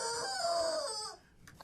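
A chicken gives a drawn-out, wavering squawking call, fairly close and clear with no talk over it, then trails off into quiet.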